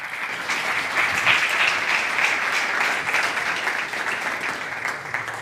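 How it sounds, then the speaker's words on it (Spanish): A conference audience applauds defense and aerospace panelists, a steady even wash of clapping from many hands lasting the whole stretch with no voices over it. "Un aplauso para todos ellos."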